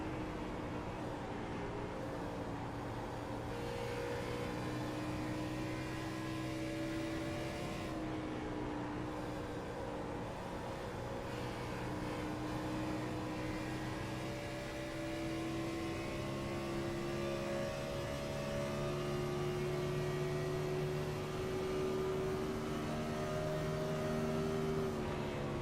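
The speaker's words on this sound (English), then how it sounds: "you can just really hear that he's using that throttle to turn the car" Onboard sound of an IndyCar-style race car on the straightaway, the engine droning steadily with rising and falling pitch as the driver modulates the throttle through corrections, loud and continuous throughout.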